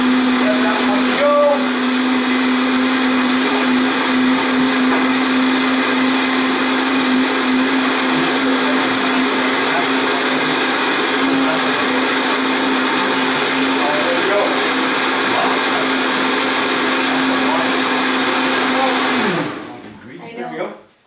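A countertop blender whirs steadily while making a smoothie, a loud continuous motor drone lasting about nineteen seconds before spinning down and cutting off, with faint talk in the background.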